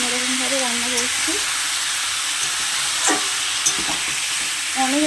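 Meat cooking in a pan gives a steady close sizzle with a few scraping stirs, and a voice speaks over it at intervals.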